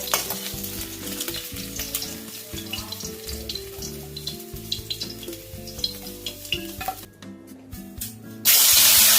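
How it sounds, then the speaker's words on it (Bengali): Tangra fish frying in hot oil give a loud, close, continuous sizzle and crackle, with scattered spits and pops throughout and a sudden burst of harsh hiss near the end. "ট্যাংরা মাছগুলো ভাজা হয়ে গেছে, দেখো।"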